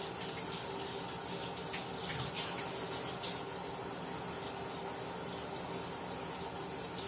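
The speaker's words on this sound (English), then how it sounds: "let me wash my hands" Water runs steadily from a kitchen sink tap as hands are washed, a continuous close splashing stream with no talking, steady throughout.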